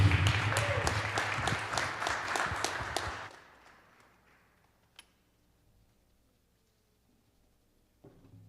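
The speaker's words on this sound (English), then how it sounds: "Round of applause" An audience at a Black History Month celebration held by the Albany Common Council applauds after a performance: dense, steady clapping for about three seconds, then fading quickly into near silence with a couple of faint knocks.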